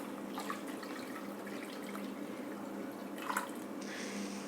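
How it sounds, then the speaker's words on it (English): Water poured into lauki curry in a pan on a gas flame gives a faint, steady watery rush with a few small splashes. The sound stays soft and continuous throughout. "we add enough water for the gravy as well"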